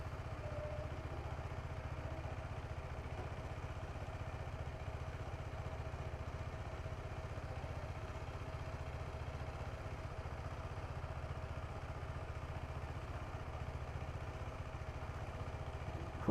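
Motorcycle engine idling close by, a steady low rumbling putter with faint mechanical clatter that holds constant throughout.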